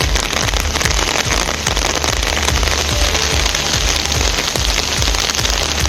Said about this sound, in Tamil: கடலூர் மாவட்டம் சிதம்பரம், புவனகிரி, அண்ணாமலை நகர், கோவிலான்பூண்டி உள்ளிட்ட பகுதிகளில் திடீரென மழை கொட்டி தீர்த்ததால் விவசாயிகள் மகிழ்ச்சி